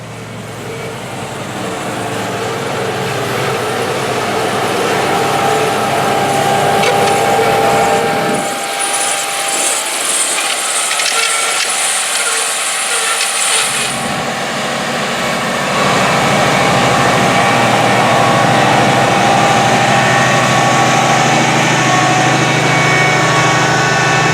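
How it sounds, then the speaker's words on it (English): A Challenger tractor pulling a 16-row, 30-inch AGCO corn planter makes a loud, continuous engine drone with steady low rumble and broadband noise, briefly thinning in the bass midway before swelling back, with no talk. "16-row 30-inch spaced corn planter"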